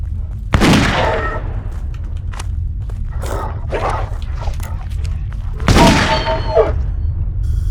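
Gunfire in a werewolf-hunting video game: two loud, sharp shots about five seconds apart, each with a ringing tail, over a steady low rumble with some fainter sounds in between.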